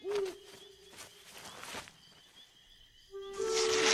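An owl hoots in a Scooby-Doo animated movie, a clear low call repeating a few times at moderate loudness alongside soft rustling soundtrack noise, with no talk.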